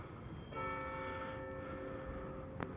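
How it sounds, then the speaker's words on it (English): Town church bell in Levice, Slovakia, striking once for the quarter hour, a single resonant toll that rings on and slowly fades over faint outdoor background noise. "now we can even hear the bell, which is ringing just once because it's quarter"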